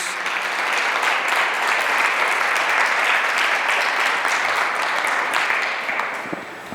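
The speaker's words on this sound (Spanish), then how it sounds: "Entonces dale un aplauso fuerte a Jesús." A church congregation at a Sunday service gives a loud, sustained round of applause for Jesus, dense steady clapping filling the room for several seconds before tapering slightly at the end, with no talk over it.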